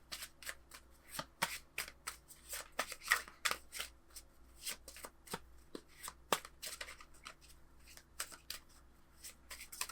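Tarot cards are shuffled for a Valentine's Day love reading, with quiet, continuous riffles and crisp flicking snaps close by and no speech.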